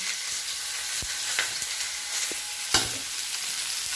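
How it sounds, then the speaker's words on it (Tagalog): Baguio beans and sayote dropped into a hot wok, a continuous dense sizzle with occasional sharper clanks and scrapes of a utensil stirring the vegetables. "Mainit na yung ating kawali. And then, ilalagay ko na yung gulay."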